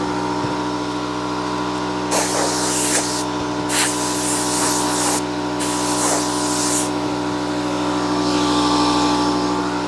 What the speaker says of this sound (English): my compressor.